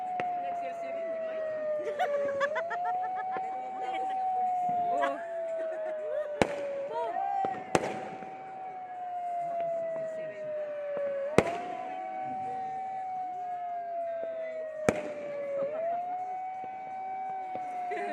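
New Year's Eve fireworks seen from a rooftop: sharp distant bangs and crackles every few seconds over a wailing siren and a steady background roar, with people talking faintly.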